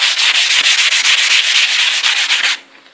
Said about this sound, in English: I will be putting an eighth inch bit in here and cutting the outers and drilling some holes in here also now